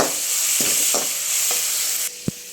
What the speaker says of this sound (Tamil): இப்போ வெங்காயம் தக்காளி நல்லா வணங்கிருக்கு